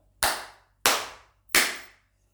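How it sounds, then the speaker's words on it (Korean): Three sharp, separate hand claps, evenly spaced about two-thirds of a second apart, close and loud with a quick decay after each, made during a counting game with cups. "그러면 3개의 개수만큼 박수를 쳐주시는 거예요"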